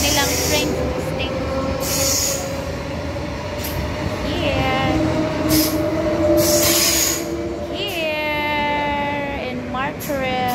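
Train at Martorell station, with a steady rumble of rolling cars and bright, repeated wheel squeals rising toward the end, heard up close with some faint talk in the background.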